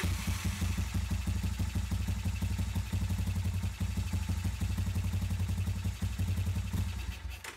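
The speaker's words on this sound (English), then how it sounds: "you want to start the engine, let it run for about 30 seconds or so" Engine of a 1986 Honda Fourtrax ATV idling after an oil change, a steady low rumble with rapid even clatter, close and constant throughout.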